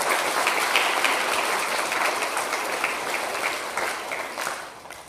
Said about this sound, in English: let's give Trey a round of applause.